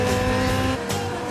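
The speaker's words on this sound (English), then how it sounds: "Hunt's in Lauda's slipstream" Formula 3 race cars of a 1970 London race roaring past at speed, a loud continuous engine blare with rising and falling pitch as they run close together, filling the whole moment.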